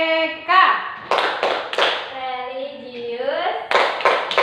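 Elementary schoolchildren in a classroom perform a clapping chant, their voices calling out words together in a sing-song rhythm punctuated by several sharp bursts of group hand claps.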